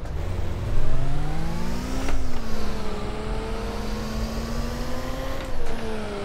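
A Nissan Stagea engine in the City Car Driving racing game drones and revs, its pitch climbing through gear shifts, a loud, continuous mechanical whine with no talking.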